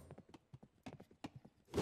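Horse hooves in the video game Age of Empires 2 clop in a quick, quiet rhythmic run of hoofbeats, ending with a brief neigh-like burst.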